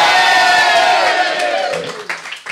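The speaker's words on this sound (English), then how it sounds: "If you think we should save the Mad Death, give us a cheer." A television studio audience lets out a loud burst of cheering and whooping that fades away over a couple of seconds into near quiet.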